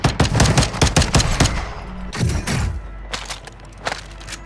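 Shotgun blasts in the Warzone battle royale game, a rapid string of loud, sharp booms followed by a pause and a few more scattered shots, close and punchy, with footstep thuds in between.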